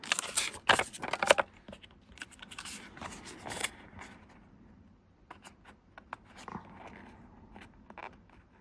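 Paper snipped with scissors while trimming a printable sheet for a collage: a few crisp cuts and rustles up close at the start, then fainter handling noises, no talking.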